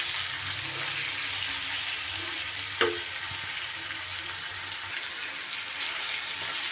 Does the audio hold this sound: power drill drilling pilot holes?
no